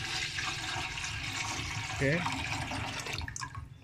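Water poured into a pot for steaming oil palm fruit, a continuous splashing, running-water rush under a brief spoken word, with a few gurgling bubbles near the middle.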